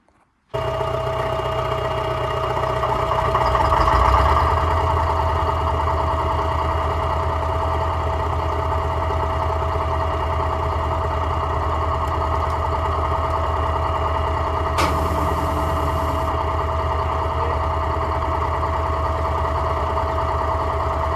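An old bulldozer's leaky Detroit diesel engine idles steadily and close by, a low rumbling drone holding even for about twenty seconds after starting up, with a brief rise in intensity early on and no talking.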